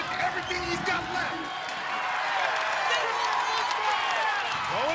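Crowd noise at an American Ninja Warrior Vegas Finals Stage 2 run, a steady roar of cheering with scattered whoops and clapping sustained throughout, with a commentator's voice over it.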